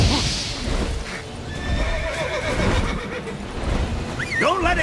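Roach, a horse in The Witcher 3, gallops with steady hoofbeats and then gives a sharp whinny near the end, amid game sound effects and a voice speaking.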